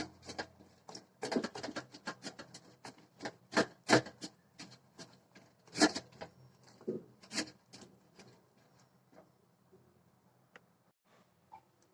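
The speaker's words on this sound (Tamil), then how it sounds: "இந்த மாதிரி கட்டி இல்லாமல் நல்லா கிளறி வச்சுக்கலாம்" Wheat appam batter is stirred smoothly to work out lumps, giving soft, irregular scraping and rubbing strokes, close but fairly quiet, that thin out toward the end with no one talking.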